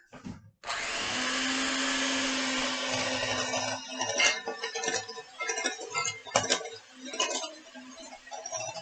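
Electric hand mixer creaming half a cup of sugar for chocolate chip cookie dough in a kids' cooking class, a steady loud whir that soon breaks into uneven clattering bursts as the beaters knock the bowl.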